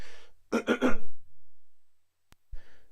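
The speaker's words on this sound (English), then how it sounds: "Let me clear my throat." Someone clears their throat in a quick rough burst of three rasps, close up, followed by a brief click and a short breathy noise.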